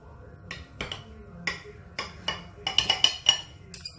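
A fork and knife clink against a plate while cutting fluffy pancakes, a series of sharp, bright metallic taps close by, irregularly spaced, bunching into a quick flurry near the end.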